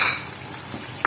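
Chicken masala frying in a pan as ginger garlic paste is stirred in, with a couple of brief spoon scrapes against the pot over a faint, steady sizzle.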